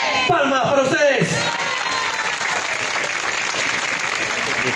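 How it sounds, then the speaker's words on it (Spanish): An audience applauds at a public works ceremony in San Martín de Porres, sustained clapping from a crowd, with a voice over the opening seconds. "Palmas para ustedes."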